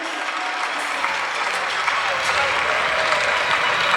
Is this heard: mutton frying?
no